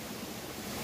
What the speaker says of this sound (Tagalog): Busay.